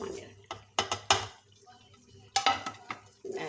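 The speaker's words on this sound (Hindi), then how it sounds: "हमने इसको फिर मिक्स करना है, इसकी बुनाई करनी है।" A spoon clatters and scrapes in a pot of daleem as turmeric and chili spices are stirred in, several sharp metallic clinks in bursts with quiet gaps between, close by; faint voice-like sound underneath.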